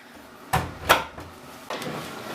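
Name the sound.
washing machine door being shut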